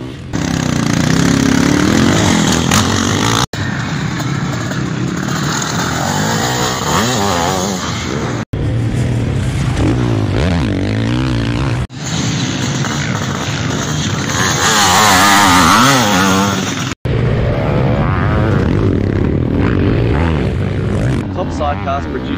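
700cc two-stroke sidecar motocross bikes with Zabel engines race on a world championship track, their loud, continuous, rasping engine roar filling the whole stretch, broken by a few abrupt cuts.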